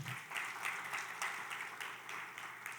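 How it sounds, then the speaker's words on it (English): Faint, steady audience clapping in a hotel event hall at a product launch in Kampala, a soft, even patter lasting a few seconds without talk. "I'm going to ask you to clap again."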